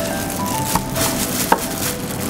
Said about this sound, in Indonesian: Terakhir kita potong ayamnya.